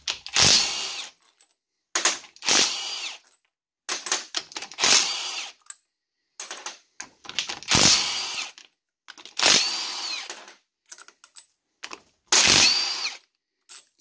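A power tool undoes the bolts on a Syncro gearbox center differential in a series of short, loud whirring bursts. Each burst is separated by a brief silence, and the bursts repeat about eight times.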